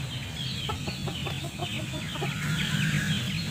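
Free-range village chickens cluck in a short run of sharp, evenly spaced calls, close and clear above a constant hum of farmyard background.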